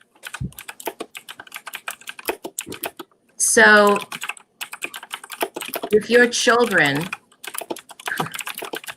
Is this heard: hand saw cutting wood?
no